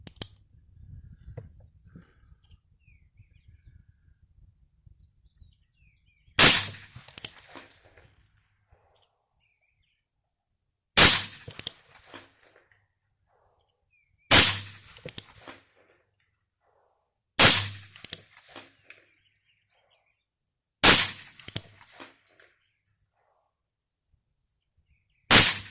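A Ruger Blackhawk revolver fires .38 rounds at a target outdoors, five sharp, loud reports spaced several seconds apart with quiet gaps between them.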